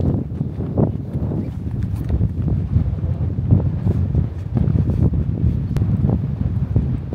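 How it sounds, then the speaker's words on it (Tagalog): Strong wind roars and buffets the microphone outdoors in Canada in a constant low rumble, with no voices. "Pakalakas ng hangin."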